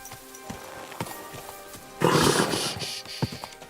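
Horse in the medieval role-playing game Kingdom Come Deliverance II, giving a loud snorting whinny or roar-like burst midway after faint hoof clops and ambient noise, with no talk.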